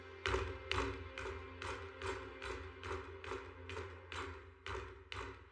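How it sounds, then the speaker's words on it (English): Someone knocks on a door over and over, about a dozen evenly spaced sharp thuds, fairly loud and close, with a steady low hum underneath. "Why are you hitting the door?"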